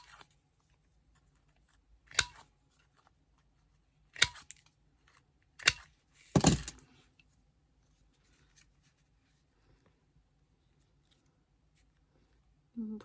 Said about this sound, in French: je vais couper les angles comme on a fait pour les autres